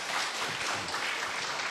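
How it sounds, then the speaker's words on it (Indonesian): An audience at an Indonesian spiritual talk claps briefly, a short dense patter of hands lasting under two seconds with no speech over it. "Tepuk tangan."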